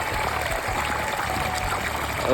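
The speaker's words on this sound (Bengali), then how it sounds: "জল পড়ছে" Water pours steadily from a farm irrigation pipe onto a field, a continuous close trickling gush with faint low mechanical hum beneath.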